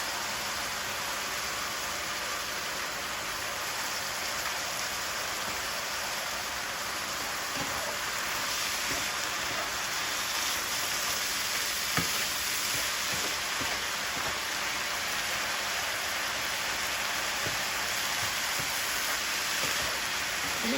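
Hamburger mixture seasoned with parsley flakes and paprika cooks in a pan, making a continuous, even hiss of sizzling moisture with faint scattered pops and no voices.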